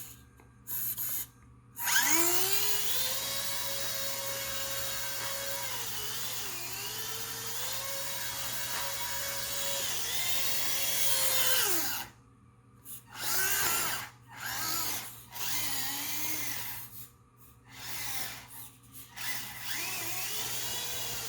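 Small electric motor of a Kyosho Mini-Z 4x4 RC truck towing a trailer loaded with an MR03 chassis, a high whine that rises and falls in pitch for about ten seconds, then shorter stop-start bursts.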